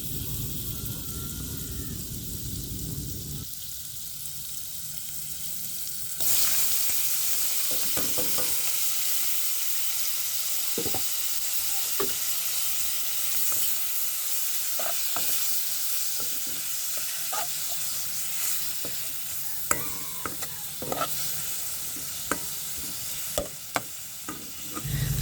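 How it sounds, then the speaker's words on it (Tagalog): Mushrooms sautéing in butter in a pan make a steady, moderate sizzle after some quieter opening sounds. Occasional utensil clicks and taps come through, with no talking. "Mga 1 teaspoon na butter para maigisa natin ang ating mushroom."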